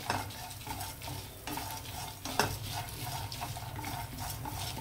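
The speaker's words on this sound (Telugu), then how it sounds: "కొంచెం వేగనిద్దామండి. ఇదిగో చూసారా, ఈ విధంగా వేగితే సరిపోతుంది." Ingredients for capsicum roti chutney fry lightly in oil in a pan, faint soft sizzling with intermittent stirring scrapes and a sharp utensil tap midway.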